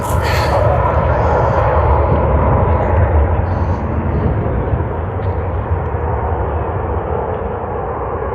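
British Airways airliner at Sydney Airport, a loud rumbling jet roar that holds steady and slowly fades, with little or no talk.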